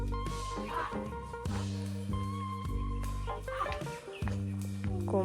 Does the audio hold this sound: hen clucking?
yes